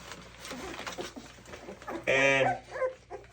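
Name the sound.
puppy whimpering at its first meal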